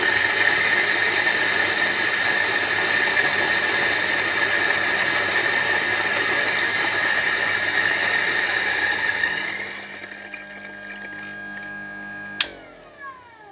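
XeoLeo electric coffee grinder grinding coffee beans, a loud steady high-pitched whine for about nine seconds that thins out as the beans run through, then the motor spins down and a sharp click ends it.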